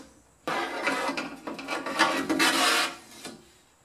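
Car door window glass scrapes and rasps as it is pulled out of its door track, a rough rubbing sound lasting a few seconds before stopping.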